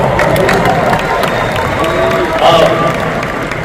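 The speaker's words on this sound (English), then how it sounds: "Give him a round of applause as well." Large event audience applauding and cheering as a guest is called up for a Q&A, a steady loud wash of clapping and crowd noise lasting throughout.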